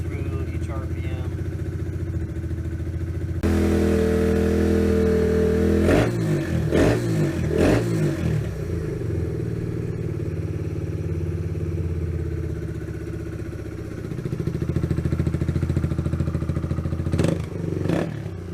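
The engine of a Kawasaki Z125 motorcycle idles, then rises in loud, close revs through the RPM range with some clattering, and a voice talks over it.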